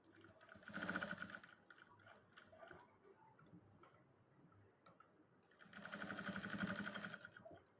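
An industrial sewing machine stitching a neck design on fabric, with a loud, fast mechanical run that pauses, gives way to a quieter stretch of ticking and handling, then rises again into a second steady burst.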